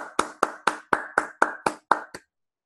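Nine sharp hand claps in a steady, evenly spaced rhythm, close and fairly loud, after a blessing in a Jewish prayer gathering, with no talk over them.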